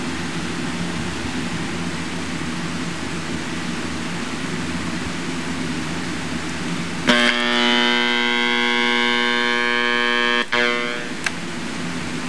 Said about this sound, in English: I'll set the alarm. We'll have a listen to the alarm.